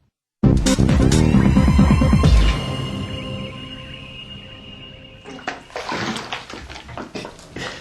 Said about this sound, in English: as the water empties from the bath, the volume remaining decreases